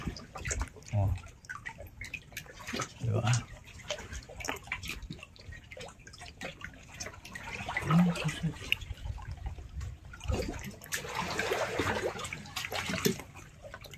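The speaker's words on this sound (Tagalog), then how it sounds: "Ayan, tumutunog yung tubig." Water flows and trickles steadily at a river swimming spot in Balanacan, Mogpog, Marinduque, a continuous wash heard close by while people talk over it.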